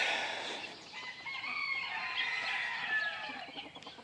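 Chickens in a backyard, with a rooster crowing and hens clucking nearby, a continuous fowl chorus at moderate volume without speech.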